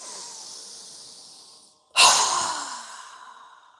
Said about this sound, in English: exhale with our mouth open wide with a strong exhale through our mouth